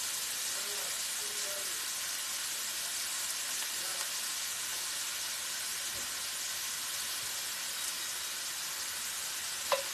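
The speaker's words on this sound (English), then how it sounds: "we're going to let those brown, or at least cook until they get tender." Food frying in a pan over medium heat gives a steady, even sizzle and hiss at moderate level throughout, with a faint clink near the end.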